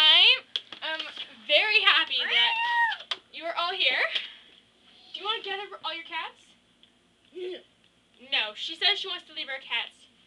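Several cats meow repeatedly in short, high, wavering calls, close and fairly loud, coming in clusters separated by brief pauses.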